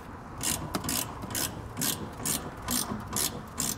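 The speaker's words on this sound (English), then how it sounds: "we'll want to tighten up our 4 Allen head bolts here on the bottom. Using a 5mm Allen head and a 9/16 wrench" A ratchet wrench tightens Allen head bolts on a Firestone Ride-Rite Red Label Extreme Duty air helper spring bracket, sounding as a steady series of about eight close, crisp clicking strokes in an even rhythm.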